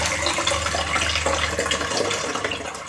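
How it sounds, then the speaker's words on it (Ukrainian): Steady rushing and splashing of water pouring out of tomato jars through lids with holes, continuous and fairly loud, with no voices. "Накриваю кришками з дірками і воду зливаю."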